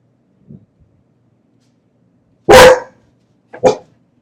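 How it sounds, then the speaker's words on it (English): Dogs bark indoors in two sharp, loud bursts a second apart, preceded by a faint low growl or whine, with quiet in between. "It's not a voiceover unless my dogs are barking."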